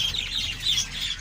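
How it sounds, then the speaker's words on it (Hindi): Budgies in a colony aviary squawk and chirp together, a brief, busy burst of shrill overlapping calls nearby. "तोते बोलते"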